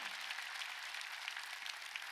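Steady applause from a church congregation at a Korean Sunday worship service, dense and continuous throughout, fairly distant and even in level with no voices over it.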